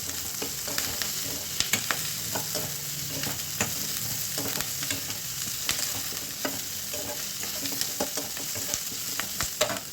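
Green chillies frying in a pan for radish chutney, a continuous soft sizzle broken by frequent quick scrapes and taps of a spatula stirring against the metal.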